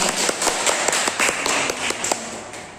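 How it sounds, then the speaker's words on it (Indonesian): Students in a classroom during an Indonesian micro-teaching lesson clap their hands together in a short burst of scattered claps, moderately near, with a faint background hum and no speech. "Oke, tepuk tangan."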